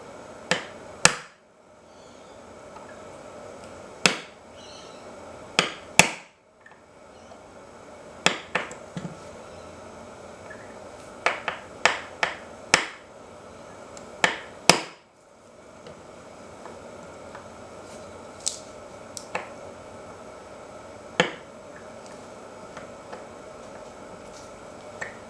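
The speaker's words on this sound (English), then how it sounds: "we then just hammer the rest of it in" A part being hammered into a Remington 7615 rifle, heard as about a dozen sharp, close metallic taps in irregular bursts separated by quiet pauses.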